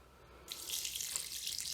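Water from a tap starts abruptly and pours steadily into a bucket of joint compound, a soft hissing splash heard up close after a brief quiet moment.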